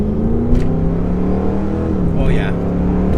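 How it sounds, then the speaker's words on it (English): A 2006 Mustang GT fitted with a JLT cold air intake, tune and exhaust accelerates with a steady, droning engine note heard from inside the car, while people talk over it. "I'm pretty sure that I'm hearing a lot of cold air. I feel like I'm hearing the exhaust more,"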